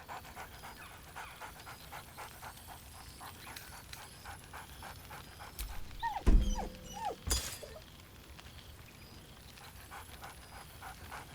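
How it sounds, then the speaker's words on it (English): A dog in Baldur's Gate 3 pants rhythmically and quietly for several seconds, then lets out a couple of loud, excited barks with a soft growl before going back to panting. "Scratch barks merrily in something like agreement."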